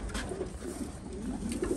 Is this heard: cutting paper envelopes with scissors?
no